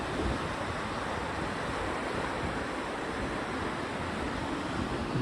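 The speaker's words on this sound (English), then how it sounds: "This is the middle fork of the Stanislaus River." Steady broadband rushing of the middle fork of the Stanislaus River near Camp 9 Bridge, continuous and even, with some wind buffeting the microphone.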